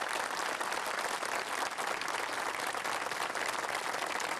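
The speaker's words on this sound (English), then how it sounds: "Let's give our honor guard a round of applause." Sustained applause from a crowd at a civic event, a city bicentennial kick-off, honoring the honor guard; dense, steady clapping fills the whole stretch at moderate distance with no speech over it.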